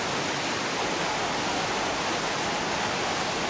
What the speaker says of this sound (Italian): sempre accompagnati dal rumore di questo torrente impetuoso